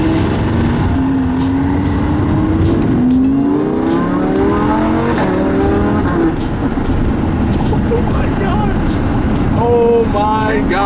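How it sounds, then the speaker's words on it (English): A Lamborghini Huracán engine in Corsa mode accelerates hard from close by, its rising revving tone sweeping upward through several gear pulls. People talk over the steady engine roar. "Corsa mode is gonna sound a lot louder. It's gonna have more of the pops and stuff that you normally hear from Lamborghinis."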